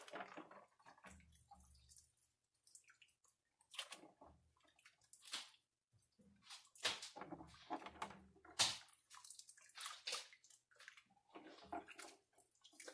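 Hot water fed through the hoses of a milking machine, heard as intermittent gurgling, splashing and dripping bursts separated by quiet gaps, fairly close and soft.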